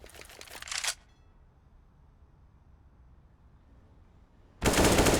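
Counter-Strike gunfire spray on the Overpass map during an ESL Challenger League match: a rapid automatic burst that cuts off, a near-silent pause, then another loud burst at the end.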